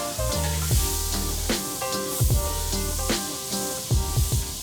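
Food sizzles in a wok with a steady frying hiss, overlaid by occasional clanks and scrapes of stirring, close and continuous.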